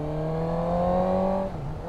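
A Suzuki GSX-S 750 or Honda CB650R motorcycle engine on the road holds a steady, rising rev under load, then drops pitch sharply as the throttle closes, loud and close with no voices.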